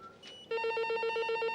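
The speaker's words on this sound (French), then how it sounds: "Téléphone." An old-style telephone bell starts ringing after a brief quiet moment, a steady rapid electric trill that stays loud and close with no voices over it.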